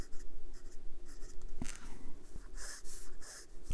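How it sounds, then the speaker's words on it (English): A broad steel fountain pen nib scratches across paper, producing a close, continuous soft scratching with short bursts of stroke noise as words are written. "the nib is very smooth and has some, maybe you can hear it, audible feedback."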